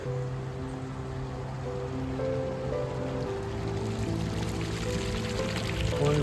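Water splashes steadily from decorative pool fountains in a natural setting, a continuous close wash of falling water with a low tonal hum underneath and no talking.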